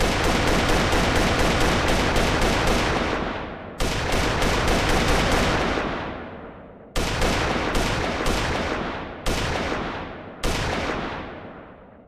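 Weapon fire in an Unreal Engine 5 third-person shooter template: loud bursts of rapid automatic shots in several runs, each run ending with a fading echo, close and unaccompanied by speech.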